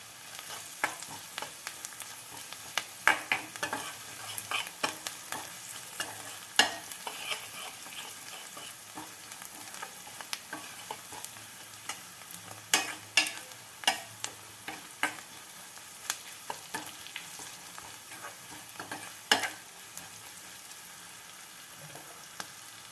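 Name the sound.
bottle gourd pieces frying and being stirred in a pan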